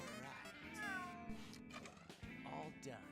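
Cat meows from the video game No More Heroes 2, a few rising and falling calls close up, heard with voices talking over them.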